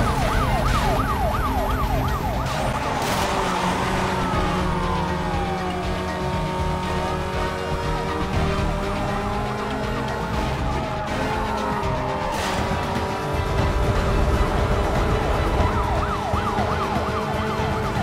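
Wailing police sirens from a high-speed chase in the Need for Speed Most Wanted racing game, several rising and falling tones layered over continuous loud engine roar, steady and close throughout.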